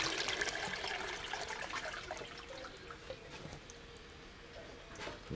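Running water in a gold sluice clean-out washes and splashes steadily, then gradually thins and quiets as it is shut off, with scattered drips and small clunks near the end.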